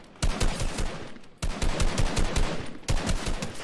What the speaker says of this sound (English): I'm getting shot by someone else.